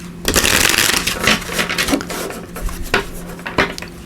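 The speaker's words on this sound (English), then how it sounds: "let me just give these a quick shuffle" A deck of tarot cards is shuffled by hand in a few quick riffling and rubbing bursts, close and crisp, with brief pauses between handlings and no talk.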